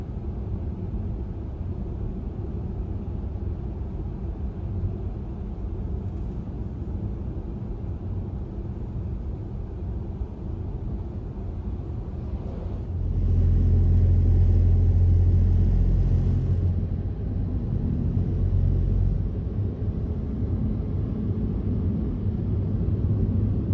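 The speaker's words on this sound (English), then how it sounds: "Now let's throw it in drive and go." Tesla Model 3 electric car driving on a patchy, straight-ice road near the Arctic Circle in Norway, a steady low road rumble that swells louder partway through and holds, with no engine note and no talk.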